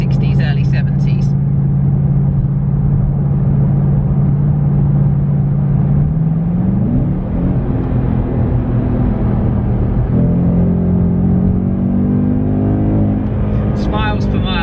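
A 450bhp Ford Mustang V8 drives along with a loud, steady engine drone heard from inside, its pitch climbing and shifting around the middle as it changes speed, then settling into a new steady tone.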